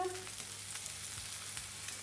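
Potato pancakes fry in oil in a home kitchen pan, a steady soft sizzle with faint pops and occasional scrapes, heard close but quiet, with no talk.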